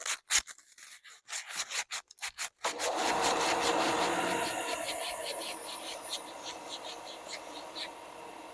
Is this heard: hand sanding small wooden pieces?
yes